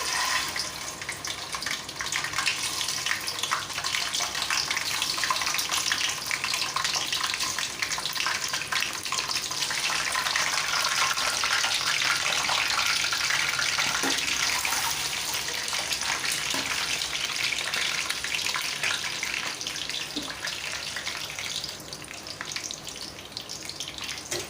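Eggs fry in hot oil under a lid in a pan while chicken biryani is made, giving a long, steady, close sizzling hiss that barely changes, with no talking.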